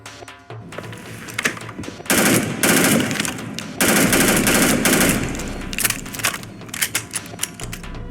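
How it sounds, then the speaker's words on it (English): A futuristic AR-X15 rifle in Starfield fires loud, rapid automatic bursts, several sustained strings of shots separated by short pauses, close and dominant with no talk over them. "The weapon mod for this episode is the AR-X15, a futuristic version of the AR rifle."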